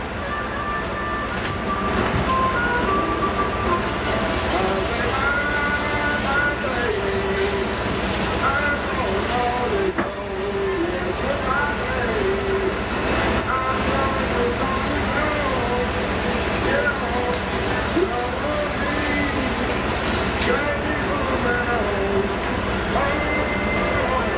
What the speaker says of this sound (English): So it's Italian sausage raw, so I'm going to wash my hands.